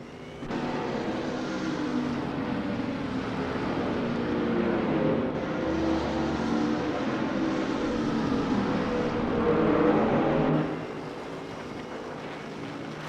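Engines of GT3 race cars, including a 2018 Ferrari 488 GT3, roar steadily in a racing video game at Maple Valley, a continuous mid-distance drone with a brief swell near the end.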